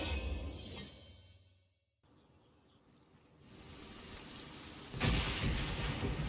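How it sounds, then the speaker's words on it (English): Rain falling outdoors in the video game Genshin Impact, a steady hiss of game ambience that thins out and then swells louder toward the end, with no voices. "It looked like probably it's raining outside."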